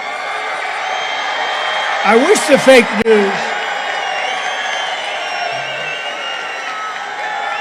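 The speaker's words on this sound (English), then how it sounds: "This is a hell of a big crowd." A large crowd at a rally in Albuquerque, New Mexico, roars and whoops in a short swell of cheering while someone speaks over a public address system before and after.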